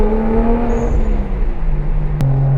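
A big-turbo BMW 335i engine hums steadily and loud in the cabin at a wet Daytona Speedway, its low drone shifting pitch midway as revs change, with a sharp click near the end.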